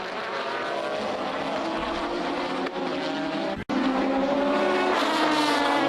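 An Aston Martin GT race car in a 2005 FIA GT three-hour endurance race at Silverstone, driven hard through Maggots and the curves, gives a loud close engine roar that climbs through the gears, with a brief break as it shifts.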